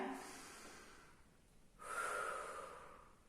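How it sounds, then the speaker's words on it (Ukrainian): Breath drawn in through the nose during a children's physical exercise class, a soft airy sniff rising midway and fading out, close and alone with no talk. "Вдих носиком."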